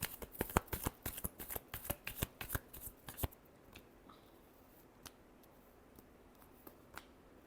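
Tarot cards are shuffled by hand, a quick series of crisp riffling flicks for about three seconds, then a few soft isolated card taps in a quiet room.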